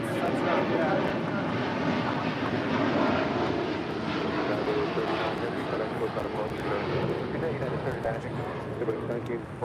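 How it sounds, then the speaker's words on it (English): A United Boeing 787-10 Dreamliner departing Los Angeles International for Tokyo Haneda gives a steady, moderately distant engine rumble and whine throughout, with faint wind over the microphone and no clear voices. "This is United Flight 39 departing to Tokyo Haneda on a 787-10 Dreamliner."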